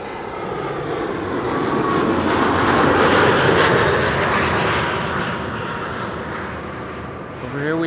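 A KLM airliner on arrival at Amsterdam Schiphol, flight 1498 in from Barcelona, rumbles past as a broad, steady engine roar that swells toward the middle and eases off, with faint talk beneath it.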